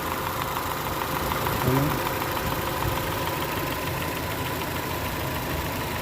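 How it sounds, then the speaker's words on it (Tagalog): A 2021 Honda City with automatic transmission idles quietly, giving a steady, smooth, low mechanical hum with a faint ticking texture, heard close and continuously with no one talking. "Silip natin yung makina. Yun. Napakatahimik ang kanyang andar."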